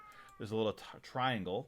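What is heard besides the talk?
cat meowing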